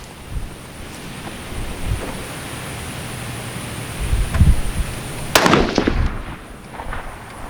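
Rifle shots from a .350 Legend at an outdoor range crack out at a distance, a few sharp reports with the loudest late on, over wind noise on the microphone.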